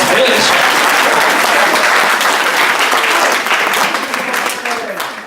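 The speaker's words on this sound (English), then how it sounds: "Can you clap hands for me?" Congregation at a church Sunday service clapping hands together in sustained, dense applause that stays loud throughout and eases slightly toward the end.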